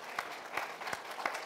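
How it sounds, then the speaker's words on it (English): Audience applause at a TechHR 2019 conference, a brief burst of clapping from a seated crowd heard fairly faintly, with rhythmic claps standing out over a steady patter. "A big round of applause for Ashutosh."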